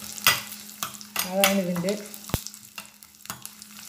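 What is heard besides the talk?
garlic and fennel seeds frying in pan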